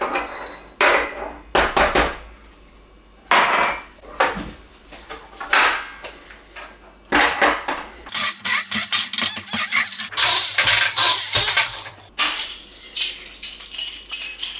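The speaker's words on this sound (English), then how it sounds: "what we're going to do is whiz up the salt and garlic" Salt and garlic being whizzed in a food processor to start toum, the blade running in loud bursts with clattering pulses, stopping and starting repeatedly before a longer continuous whirring stretch, no talking.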